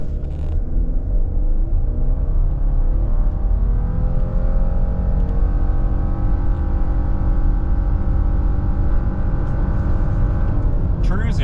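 A 2025 Subaru Outback Touring accelerates hard from a standstill at high altitude, its engine note climbing steadily and loudly in a long continuous pull from inside the cabin, with no talk over it.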